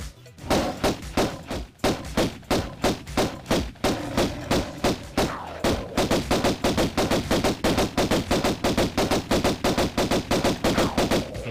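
Shotgun fire in the classic Tomb Raider I game: loud, evenly spaced blasts repeat rapidly and without pause for the whole stretch, with no talking.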